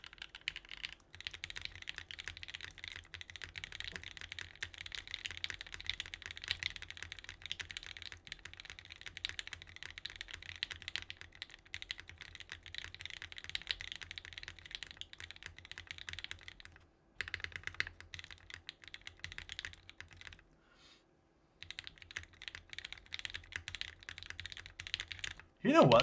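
Typing on a TKL mechanical keyboard built on a full plate, with steady continuous keystrokes clacking close and fairly quiet, one brief pause near the end and some faint talk in the background.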